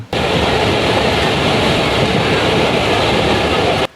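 Steady, loud rumble and rattle of a passenger train running between Khulna and Mongla in Bangladesh, heard from on board as a continuous roar with faint clatter, no voices.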